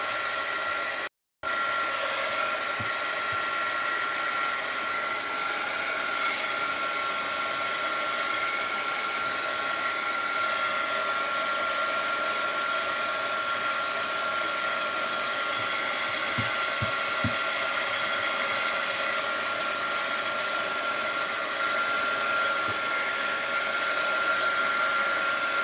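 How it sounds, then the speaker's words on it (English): A heat gun blows hot air steadily over drying paint. Its constant whirring hiss runs close and unbroken for almost the whole stretch, with one brief cut near the start and no speech. "Let's give them a little heat gun."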